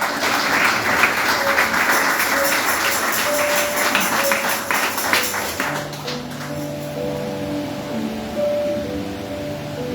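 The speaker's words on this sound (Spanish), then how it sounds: "Dale un aplauso a Dios" A church congregation at a Sunday school service applauds, a steady wash of clapping that fades after several seconds while a sustained organ-like tone continues underneath.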